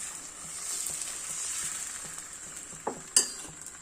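Steady, soft sizzling of pancake batter frying in a pan, with a couple of sharp clinks of a utensil near the end.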